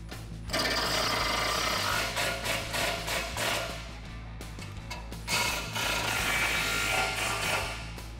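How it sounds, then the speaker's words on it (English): A 17 mm socket tightening bolts on an aftermarket steel rear bumper of a 2015–2019 Ford F-150, rapid ratcheting clicks in bursts with short pauses, close and fairly loud, no talking. "we're gonna tighten these down with a 17 millimeter socket"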